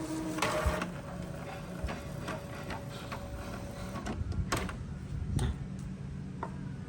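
An Epson L3110 inkjet printer initializes with close mechanical ticks, clicks and whirring gear movements in an irregular sequence. No voice is heard.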